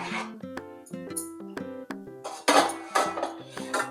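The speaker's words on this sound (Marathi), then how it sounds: "आता आपण ती परातीमध्ये काढून घेऊया" Metal utensils clank and scrape against a large metal plate as roasted chakli flour is tipped and scraped into it, a quick run of close, ringing clinks with louder scraping toward the end.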